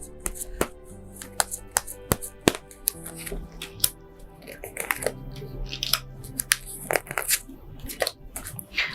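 Tarot cards shuffled and drawn for a weekly Taurus horoscope reading: close, crisp card snaps, riffles and taps come in quick, uneven clusters throughout, with no voice.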